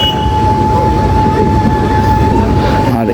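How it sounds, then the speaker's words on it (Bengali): Local train moving along the line, heard from on board as a loud steady rolling rumble with a thin sustained whine, no talk. "আমরা একটা লাইনে আরেকটা লাইনে আমাদের ট্রেন চলে যাচ্ছে।"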